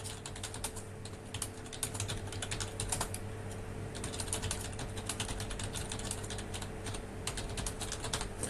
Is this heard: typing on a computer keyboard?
yes